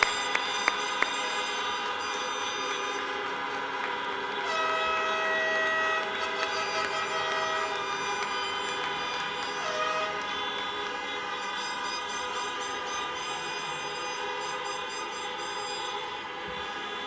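Car horns honking in salute to graduates at an outdoor commencement, several overlapping sustained horn tones and blasts from vehicles spread around, some short beeps early, mixed into a continuous distant blaring.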